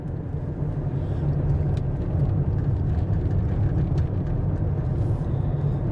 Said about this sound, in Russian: Это мы по серпантину едем.